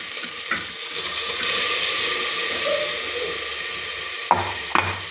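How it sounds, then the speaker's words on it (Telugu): Ginger garlic paste fries in hot oil over softened tomato and onion pieces for a mutton curry, giving a steady, fairly loud sizzle throughout, with a couple of sharp utensil clanks near the end as it is stirred. "ఈ పేస్ట్ అనేది బాగా ఆయిల్లో వేగాలి."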